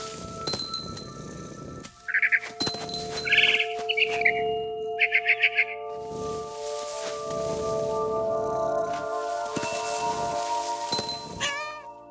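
Bird chirps in the video game What Remains of Edith Finch, where a barn swallow returns to its nest, heard as short bright tweets over a sustained musical drone, joined by cat-like meowing and scattered clicks.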